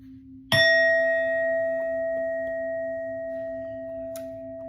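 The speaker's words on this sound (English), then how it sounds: "We're going to hit this bell." A single bell is struck once, close and loud, and its clear metallic ring then sustains and slowly decays for several seconds with a few faint incidental sounds in the background.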